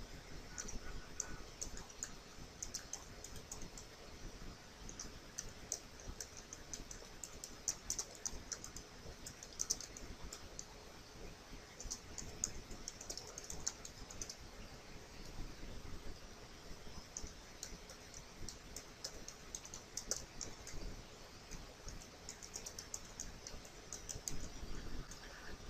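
Typing on a computer keyboard while working in WordPress, a steady stream of quiet, close key clicks running throughout with no voice over it.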